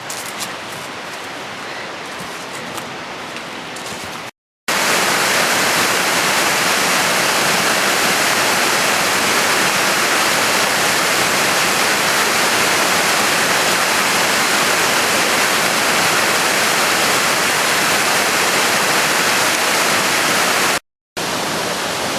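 Loud, dense rushing roar of a waterfall heard from close underneath it in wilderness, continuous and broadband, with two brief dropouts and quieter water noise at the start.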